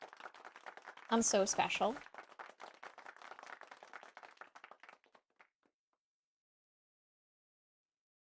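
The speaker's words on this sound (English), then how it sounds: "Oh, I got an applause." A short burst of recorded applause from a stream alert plays as quick, light clapping that fades out after a few seconds, with a voice speaking briefly at the start.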